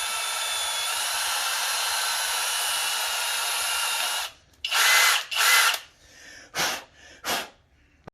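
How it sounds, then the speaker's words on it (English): A power drill bores through metal on a Honda Talon to mount XK Glow rock lights, a long steady high-pitched whine followed by several short bursts as the trigger is pulsed, close and loud. "I don't just run the drill bit through it and you're done"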